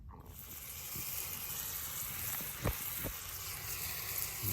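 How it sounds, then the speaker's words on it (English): Ham and wieners fry in an army pan at a campsite, giving a steady, soft sizzle with a few brief pops near the pan. "Got the ham and wieners cooking."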